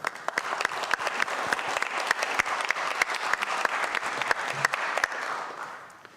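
Applause from a room of people at a city council meeting: steady, even clapping that holds for several seconds and then fades away.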